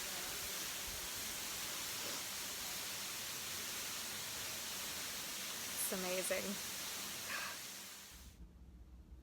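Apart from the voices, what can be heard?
waterfall rushing, heard from behind it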